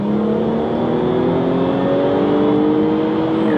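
Jaguar XE S pulling hard on a dual carriageway, a loud close engine note climbing steadily in pitch under acceleration with a whirring drivetrain and road rumble, heard from inside the car.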